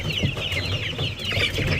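Young 45-day-old chickens cluck and chirp nearby in a lively, continuous chorus of overlapping calls, with no talking.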